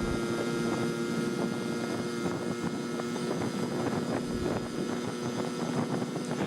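A Honda Express NC50 moped engine runs steadily while riding, a continuous droning hum with a faint whine and wind rumble, loud and close throughout without pause.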